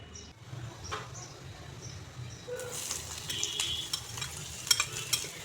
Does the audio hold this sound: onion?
yes